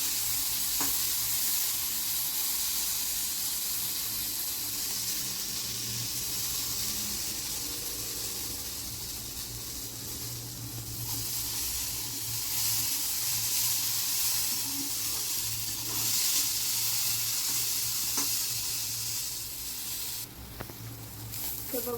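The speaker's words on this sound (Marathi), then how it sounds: "आपली गवार ही चांगली फ्राय करून घेतली आपण तेलामध्ये, हळद आणि मीठ यूज करून" Cluster beans fry in oil with turmeric and salt over a medium flame, giving a steady, close sizzle and hiss that runs on without a break, with a few stirring scrapes.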